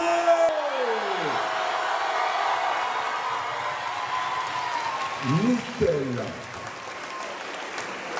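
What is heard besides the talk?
audience applause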